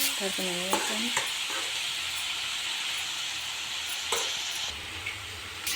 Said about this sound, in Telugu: కట్ చేసుకున్నటువంటి క్యారెట్ ముక్కలను ఈ పోపులో వేసి చక్కగా నూనెలో ఉడకనివ్వాలి